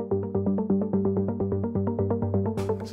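Low-register Diva software synth arpeggio in a psytrance/trance fusion track, steady rapid pulsing notes repeating in a tight rhythm, loud and alone, with a brief bright noise sweep near the end.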